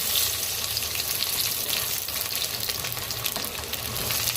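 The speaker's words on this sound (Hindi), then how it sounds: "कढ़ाई में हमारा तेल गर्म हो चुका है। डालना है हमें कांदा" Onion frying in hot oil in a kadai, a steady, dense sizzle that stays close and fairly loud throughout with no pauses and no talking.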